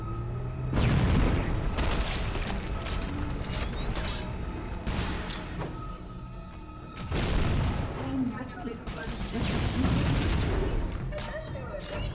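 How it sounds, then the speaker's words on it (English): Grenades go off during a firefight in Halo 1, several heavy booming blasts with crackling debris rising over a busy backdrop of game gunfire and mechanical noise, loud and close. "Alright, grenade time. Grenade time."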